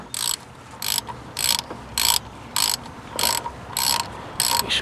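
A ratchet turns a 10 mm bolt on a thermostat housing, eight crisp bursts of rapid clicking in an even back-and-forth rhythm, close and loud.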